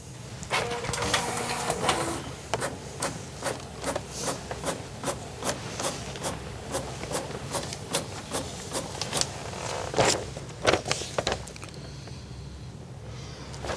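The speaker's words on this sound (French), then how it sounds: "Je vais imprimer votre séjour." A printer printing out a train travel booking at an agency desk: a fairly close, steady mechanical whir broken by repeated sharp clicks and rolling rattles as the sheet feeds through.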